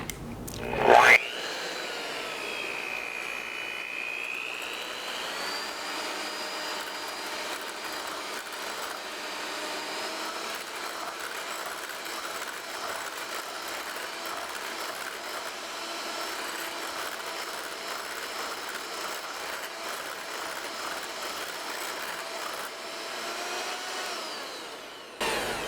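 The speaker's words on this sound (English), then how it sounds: "so you don't have to hear this whining noise. I'm not talking about my voice, I'm talking about the mixer." Electric mixer whipping peppermint meringue, a steady high mechanical whine with a whirring motor drone that runs continuously for the whole stretch after a brief clatter at the start.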